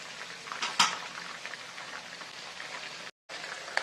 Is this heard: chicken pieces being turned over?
yes